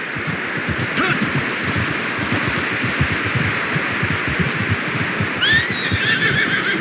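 A horse in Red Dead Redemption 2 whinnies and snorts amid a steady rumble of hoofbeats, loud and close, with a brief higher squeal near the end.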